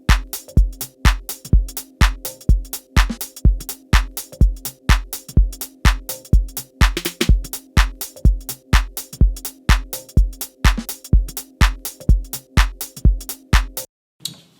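A minimal house drum loop programmed in Ableton with groove, steady kick hits under crisp clicky percussion and a looping tonal hum, repeating evenly and loud for about fourteen seconds before cutting off.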